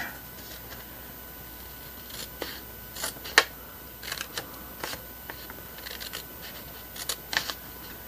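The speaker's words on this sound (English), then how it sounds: "I'm going to cut it just a hair more." Scissors snipping paper for a stacked envelope craft, a scattered series of crisp cuts and small clicks, fairly faint and close with quiet room tone between.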